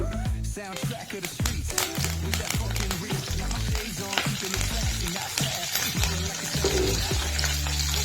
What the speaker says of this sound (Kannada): ಎಣ್ಣೆ ಕಾಯ್ತು ನೋಡ್ರಿ. ಇದಕ್ಕೆ ಸ್ವಲ್ಪ ಕರಿಬೇವು ಹಾಕ್ತೀನಿ, ಸ್ವಲ್ಪ ಕೊತ್ತಂಬರಿ